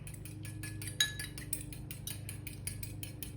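Cocktail sauce being mixed in a bowl, with a fast, steady run of light clinking taps from a utensil against the bowl's side, close and fairly quiet, with one louder clink near the start.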